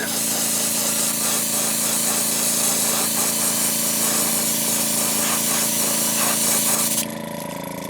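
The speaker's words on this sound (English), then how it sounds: "First thing we need to do, let's make them white." Spray paint hissing steadily and loudly as a shad rap style fishing lure is coated white, one continuous close burst that ends abruptly near the end, no talk.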